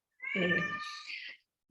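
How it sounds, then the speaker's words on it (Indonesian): A house cat gives one drawn-out meow rising then trailing off, close and fairly clear in a quiet indoor room, with nothing else around it. "sorry ya, itu kucing saya ngomong."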